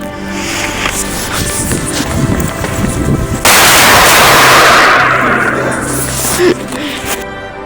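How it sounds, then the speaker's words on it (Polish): Tiny firecrackers laid out in a sun-shaped ring inside a small structure go off in a rapid crackling string, then burst into a loud sustained hiss and rattle before tapering off, close by, with voices faintly present. "teraz ustawiliśmy z Danonem takie słoneczko z tych malutkich petard. Wysadzamy je w takim malutkim budynku"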